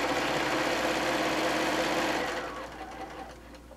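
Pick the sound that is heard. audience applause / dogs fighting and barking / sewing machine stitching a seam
sewing machine stitching a seam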